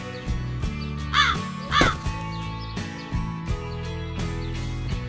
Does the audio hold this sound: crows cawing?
yes